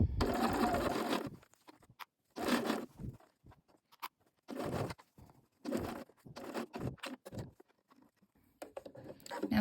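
A serger overlocks a seam on a knit cardigan, running in several short bursts of busy mechanical whirring separated by brief pauses, close and fairly loud.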